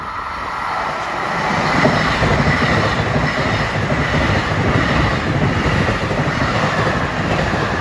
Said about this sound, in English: he switches over to 1 to get out of the way of train 761 from Hempstead to Penn Station